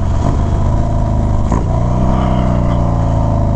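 A Harley motorcycle's engine rumbles loudly and close by on an evening ride. Its deep, throbbing note surges briefly as the throttle is blipped.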